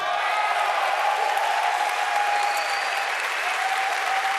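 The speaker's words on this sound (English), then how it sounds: "Way more cheering than I expected for that." A large audience at the E3 2018 Ubisoft conference cheers and applauds steadily, a dense, loud wash of clapping and shouts that holds without a break for several seconds.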